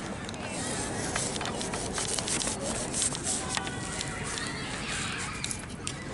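A digging tool cuts a plug of soil during metal detecting, giving a steady, close, gritty scraping and crunching that runs throughout, with soft scuffs on top.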